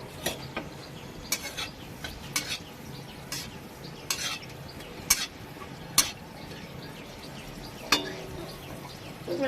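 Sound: dried red chillies added to hot oil, stirred and sizzling

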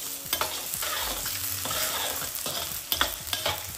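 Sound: peanuts added to frying potatoes for poha

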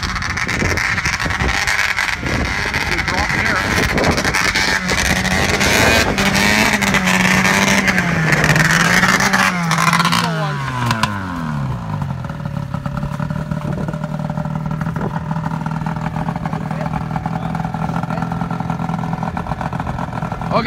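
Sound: Arctic Cat ZR440 snowmobile engine revving and bogging

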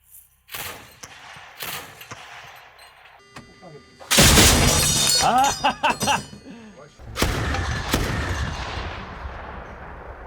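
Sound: 30 mm autocannon firing

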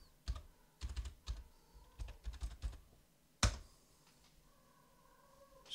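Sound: typing a password on a computer keyboard

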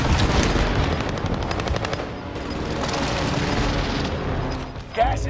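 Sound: gunfire in the video game Call of Duty, Rebirth Island

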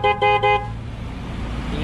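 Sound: car horn

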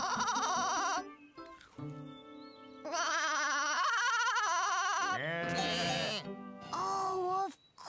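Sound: goat bleating in a cartoon

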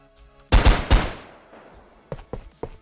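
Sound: gunfire in an Unreal Engine 4 game

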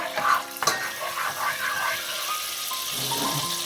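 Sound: salted butter sizzling hot in pan

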